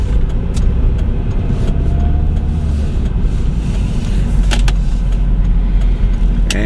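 Cars speeding past outside, heard as a continuous loud rush of road traffic with low engine rumble and occasional swells and clicks, and no talking.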